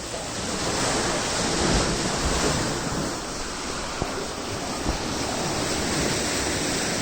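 Sea waves on the Konkan coast near Brahmangad crash and surge through rocks in a loud continuous roar with broadband wash and occasional sharper hits, no talking.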